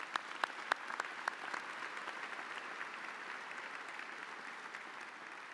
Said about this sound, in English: please join me in a round of applause for these retirees and all the staff who helped shape your school